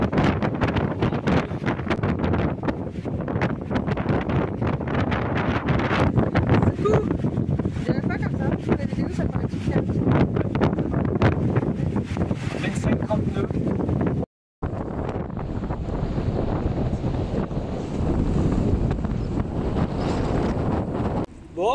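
Strong northeast wind of about 25 knots buffets the microphone aboard a sailboat at anchor in Palmeira, Cape Verde, in a constant roaring gust, with a brief cut partway through before the blustery rush resumes.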